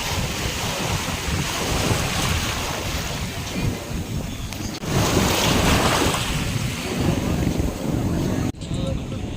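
Steady rush of surf and wind buffeting the microphone at Bolinao Beach, with waves washing in continuously and voices faintly audible in the background.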